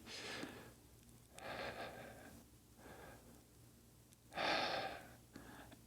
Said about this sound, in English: that slow breathe in, breathe out